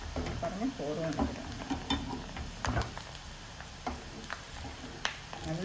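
Sweet pongal ingredients roasting and being stirred in a pan, with a soft steady sizzle broken by repeated scraping strokes of a spoon against the metal throughout.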